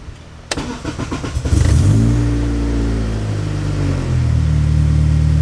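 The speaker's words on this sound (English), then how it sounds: "Now I got to show you guys this cold start again." A car with a freshly repaired VTEC solenoid cold-starts: a short crank catches into a loud rev that climbs, then eases down into a steady, smooth high idle, close and without talk.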